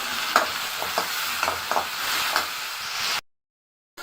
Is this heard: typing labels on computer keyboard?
no